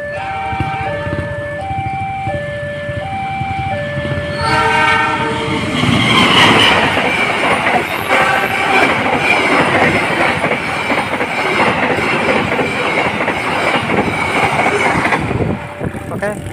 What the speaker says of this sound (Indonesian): Kereta api Argo Prumanggrek sudah melintas.